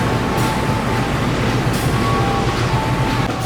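Steady rumble of Gajah Wong train hauled by locomotive CC 018912, Sidotopo-based, passing close by on track 3, with a continuous loud roar and faint high tonal whine throughout.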